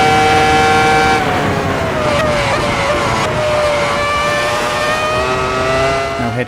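Michael Schumacher's 2004 Ferrari Formula 1 race car in Assetto Corsa, engine held at a loud, steady high-revving scream with pitch dipping and climbing through gear changes, racing on a circuit among other Ferraris.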